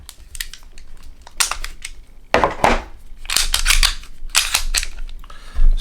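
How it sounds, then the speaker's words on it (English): Subcompact 9mm Springfield XD pistol with a 3-inch barrel being unloaded, a run of sharp metallic clicks and clacks from the slide and magazine, close and fairly loud, with no talking. "Let's go ahead and take a look at the gun and unload it."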